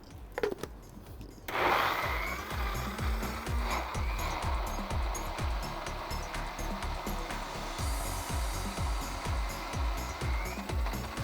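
After a short quiet start, a blender whirs up loudly and churns hummus sauce in a steady, pulsing grind that runs close and unbroken for about ten seconds.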